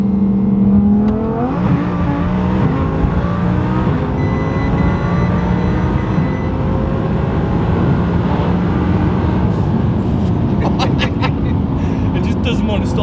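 A twin-turbo Audi R8 pulls hard through third gear at high boost, a loud rising engine whine and turbo roar building continuously from inside the car, with a voice talking over it at the start.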